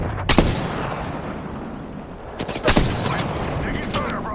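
Gunfire in the battle royale shooter Apex Legends, two loud sharp bursts of shots over continuous game noise, with a voice line heard faintly in the mix.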